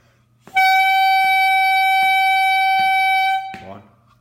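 A reed instrument holds one long, bright honking tone that lasts about three seconds, close and loud. Faint clicks sound beneath it, and the tone stops abruptly.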